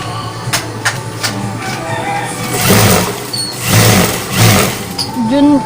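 A single-needle sewing machine stitches the garter on velvet shorts in loud mechanical bursts that start, stop and speed up, with a voice talking over the whirring.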